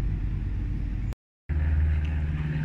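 A car driving home, steady engine and road drone close inside the cabin, briefly cut to silence before resuming slightly louder.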